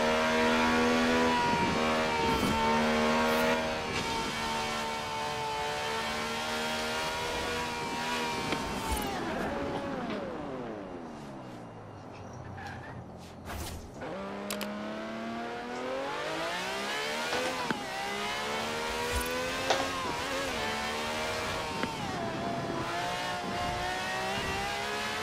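A revving car engine in the video game Forza Horizon 4 rises and falls in pitch as it accelerates, dips low, then climbs again, loud and sustained.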